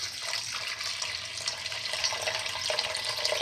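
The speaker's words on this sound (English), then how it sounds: "Now pour in 250 ml of water" Steady splashing and trickling of 250 ml of water being poured into a cooking mixture, a continuous bright hiss with no voices.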